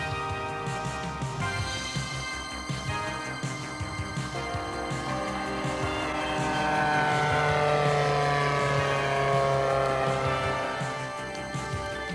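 A replica Curtiss R3C2 racing seaplane, a radio-controlled model built as a reproduction, flies along a beach, its buzzing engine drone steady and fairly loud, swelling slightly midway as it passes nearer.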